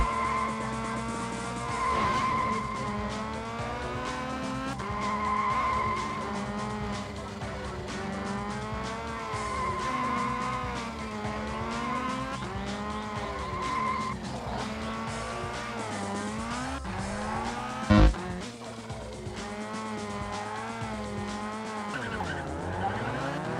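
Continuous engine drone rising and falling in pitch from a Codemasters racing game on the PS1, with repeated long tyre squeals skidding through corners and one sharp impact thud near the end, steady and loud throughout.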